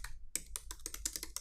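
Quick, crisp keystrokes on a computer keyboard rattle out close to the microphone in an uneven run of about nine clicks after a brief pause, steady and fairly quiet.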